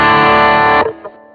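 Electric guitar played through an Ampeg B15n amp plugin with distortion, a single loud sustained distorted chord ringing out and then cut off abruptly, leaving a faint decaying tail.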